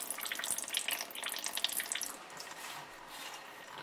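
Liquid drained from a can into a soup pot, a close, steady splashing trickle that is louder at first and then eases into a softer flow.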